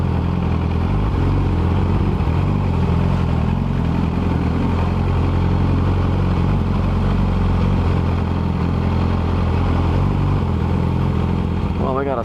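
A Yamaha R6 motorcycle engine runs continuously while riding, with cobblestones mentioned nearby: a loud, steady drone mixed with wind rush, holding constant throughout with no break.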